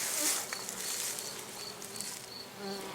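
A swarm of honey bees buzzes continuously inside a hollow log hive, a close, dense drone with individual insects whirring past, heard alone without voices.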